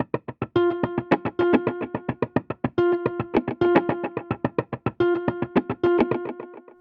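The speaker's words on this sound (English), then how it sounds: "the rest of this is just kind of percussive stuff that you would do on the neck of the guitar" Percussive guitar-neck articulations sequenced by the Voyager Guitar arpeggiator, a rapid steady stream of plucked, muted hits with ringing pitched notes breaking through in repeating phrases, loud and close with no talking.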